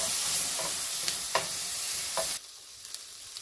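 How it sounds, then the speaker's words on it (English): Garlic and onions sautéing in olive oil in a pan, for a squash soup made from frozen squash, give a steady close sizzle with a few stirring scrapes, then the frying cuts to quieter, fainter crackles. "I'm just going to add half a spoon of garlic for flavor, and I'm going to cook that along with the rest of my onions."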